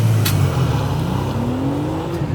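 A 2025 Porsche 911 GTS T-Hybrid of the 992.2 generation fires up at the push of its starter button, settling into a loud, steady close-up idle whose note rises smoothly as it runs.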